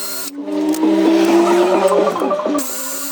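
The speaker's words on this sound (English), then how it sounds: "gotta drill 3 more holes to insert these fasteners" A drill whines loudly for a few seconds, its pitch rising and wavering as it bites into a Toyota Prius's steel for rivet holes, then cuts off.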